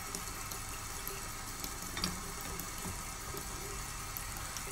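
Tap water runs steadily while a die-cast Dinky Toys Mighty Antar model is rinsed under it, a soft continuous splash and hiss with faint clinks.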